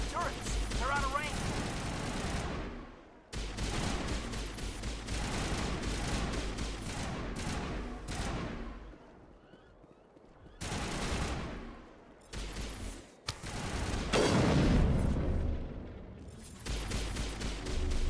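Gunfire from the Mass Effect game, a dense run of automatic fire and sniper shots in bursts that break off several times and then resume, with game voices talking over the shooting.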